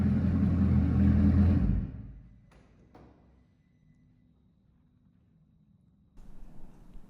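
A Bugatti Bolide's engine rumbles deep and loud at first start-up for a couple of seconds, then fades away into near quiet before a soft rumble returns at the end.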